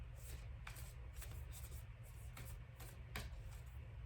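A deck of cards is shuffled by hand in a quiet room, giving soft repeated riffling bursts over a low steady hum.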